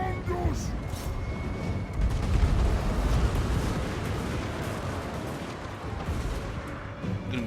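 Cannons and artillery boom through a Warhammer video game battle, with dense, rumbling volleys and explosions rolling continuously under shouting voices and battle noise.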